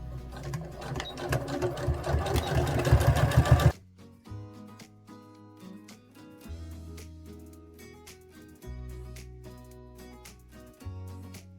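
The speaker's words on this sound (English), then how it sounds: "I'm going to do the same stitching here about 3 millimeters away from the seam" A sewing machine topstitches a hoodie seam about 3 millimetres from the edge. It gives one loud, steady run of rapid stitching lasting a few seconds, then stops abruptly.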